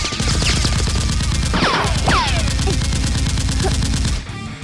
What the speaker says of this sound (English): SEAL X continued exchanging heavy gunfire with the other guard.